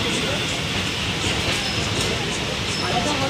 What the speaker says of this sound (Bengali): ট্রেনটা এখন ছাড়লো বর্ধমান দিয়ে।